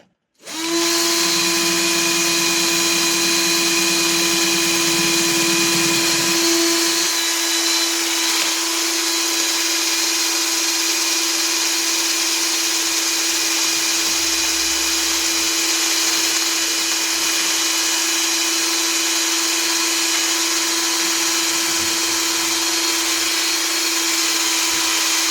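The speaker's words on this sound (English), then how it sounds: "I'm going to use the steel drill bit." A power drill with a steel bit cleans a valve from a Volvo XC90 B4204T35 cylinder head, running steadily with a constant whine and a loud, close, continuous whir that shifts slightly in load partway through.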